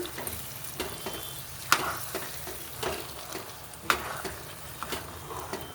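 Carrot halwa with ghee and dry fruits stirred in a pan, a continuous soft sizzle broken by a few sharper scrapes and knocks of the spoon, close up with no talking.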